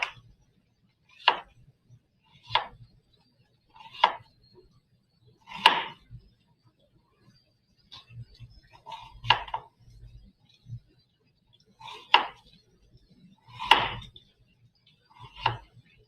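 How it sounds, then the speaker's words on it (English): A knife slices an onion into medium to thin slices on a cutting board, each stroke ending in a crisp thunk, with about ten cuts at a steady, unhurried rhythm and short pauses between them. "we're going to slice medium to thin slices"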